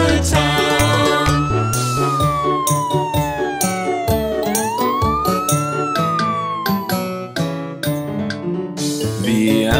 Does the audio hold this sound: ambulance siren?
yes